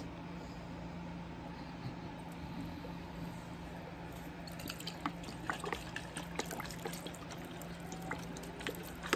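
Worcestershire sauce poured into a pot while cooking Jamaican oxtail, a soft liquid trickle and splash over a steady kitchen hum, with light drips and clinks picking up in the second half.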